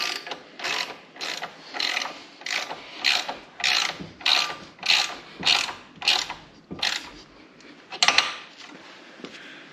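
A ratchet wrench clicks in about a dozen quick, evenly spaced bursts while bench vise mounting bolts are tightened, each stroke a crisp metallic rattle heard close up.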